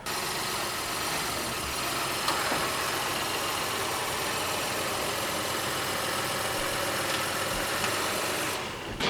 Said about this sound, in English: just back the vehicle up a couple feet and we'll pull it right out